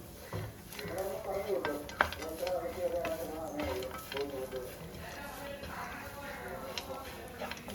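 Quiet stirring and light scraping in a pan with a soft sizzle underneath as cashews, raisins and coconut fry in ghee, while a person talks over it.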